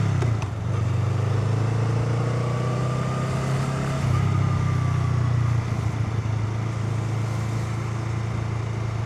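A Honda Rebel 500 motorcycle pulls away as the clutch is slowly released and throttle applied, its engine a loud, close, continuous drone that steps up in pitch midway through as it gathers speed, with road and wind noise.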